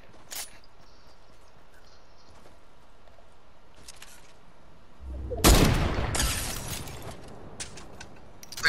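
Sniper gunfire in a video game, with a couple of faint distant cracks early on, then a loud burst of close shots and clattering impacts midway, followed by scattered sharper reports.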